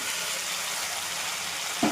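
Cauliflower, potatoes and peas with bay leaves sautéing in a pan with spices, a steady soft sizzle throughout with a brief louder clink or stir near the end.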